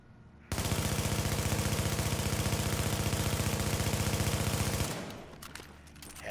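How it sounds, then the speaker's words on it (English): Rapid automatic gunfire in The Division, a dense unbroken burst of body shots lasting several seconds, loud and close, then cutting off into quieter background game noise. "Those are the body shots."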